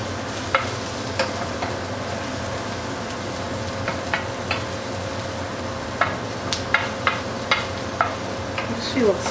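Chicken and vegetable stir fry with potatoes, carrots, red cabbage, celery and onion in grapeseed oil sizzles steadily on a grill over high fire, with scattered sharp pops and spatters throughout.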